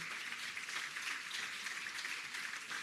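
Applause breaks out at an awards ceremony as a newly introduced official stands, a steady, fairly faint patter of many hands clapping together from a distance.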